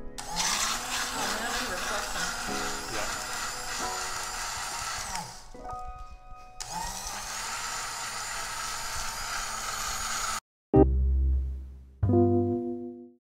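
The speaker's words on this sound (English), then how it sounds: "We're gonna mix it up with our little milkshake maker that makes better drinks than milkshakes so far in our experience." Small milkshake maker blending a crushed-ice tiki cocktail, a loud, steady whirring motor that runs for several seconds, pauses, restarts, then stops, followed by a few clinks and rattles of ice and glass.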